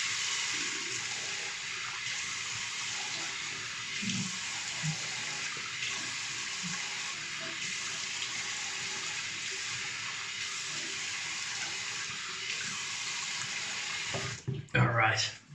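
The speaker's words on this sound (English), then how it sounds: "Hot water." Hot water pours steadily from a tap into a sink, a loud, close, continuous rush that ends with a few clunks and splashes as it is turned off.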